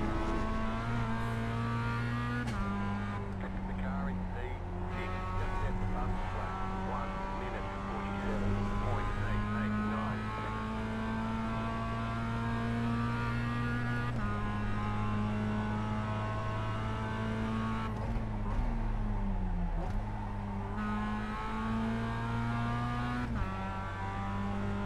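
A Mazda MX-5 Miata engine in the iRacing sim, racing an MX-5 Cup rookie event, drones steadily from the cockpit and holds high revs. Its pitch drops sharply at each upshift and downshift throughout, and there is no talk over it.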